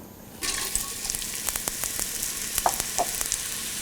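Onions sauté in a pan, an abrupt burst of sizzling that starts after a quiet moment and continues as a close, crackling fry with scattered pops.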